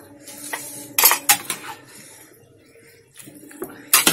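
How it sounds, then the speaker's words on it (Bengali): Winter vegetables being stirred into a pea-lentil and sun-dried rice khichuri in a pot, a handful of short spoon scrapes and clinks against the metal with quiet gaps between, no speech. "এবার একটু নাড়িয়ে দেবো"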